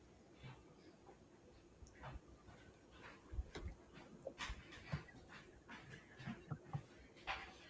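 A dog stuck between doors whimpers and pants softly in short, irregular bursts, with faint rustling and thumps nearby.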